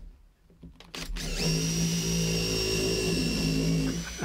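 A power drill spins a planed stick of Meranti wood while making homemade dowels. It gives a steady, loud whirring whine with a low hum, building after a second and running continuously to the end.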